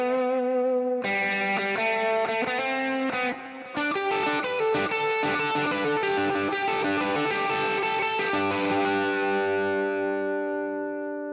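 Cozart Tele-style electric guitar playing a praise-and-worship lead line through distortion and chorus effects, with sustained ringing chords and melodic notes rolling continuously before fading out at the end.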